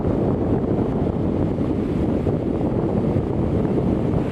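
Waves wash onto a beach in Rayong, Thailand under strong gusting wind buffeting the microphone, a dense, continuous low roar of surf and wind with no talking.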